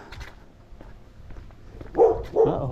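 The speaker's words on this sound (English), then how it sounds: "barking dog." A dog barks twice in quick succession, moderately close, on a city street after a stretch of faint footsteps and quiet outdoor background.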